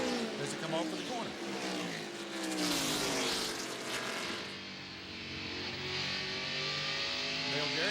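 NASCAR stock cars race at the 1998 Pontiac Excitement 400, engines whining and rising in pitch as they come off a corner, with a commentator talking over the steady roar.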